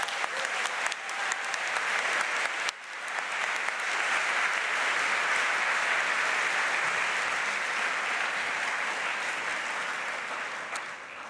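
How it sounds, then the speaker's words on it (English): A large audience applauds steadily at a 2024 awards gala honoring leadership, a dense, sustained wash of many hands clapping that swells briefly and then holds at full strength with no speech over it. "Let's give them a big round of applause."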